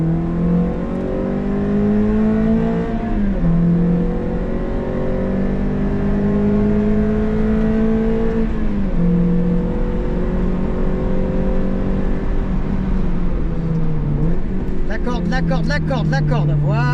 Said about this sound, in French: On ouvre le volant, on accélère.